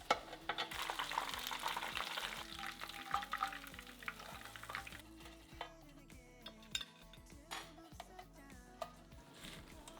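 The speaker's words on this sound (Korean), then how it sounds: "채를 썬 고구마에 반죽물 부어 튀겨줄 거예요." Shredded sweet potato in batter frying in oil, a steady close crackle and sizzle with scattered clinks of utensils and cookware throughout.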